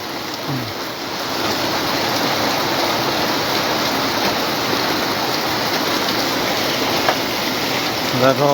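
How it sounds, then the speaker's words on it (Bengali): Heavy rain comes down in Comilla, a loud, continuous wash of falling water after a brief quieter start, with faint voices and a few small knocks in the background. "প্রচুর বৃষ্টি পড়ছে প্রচুর"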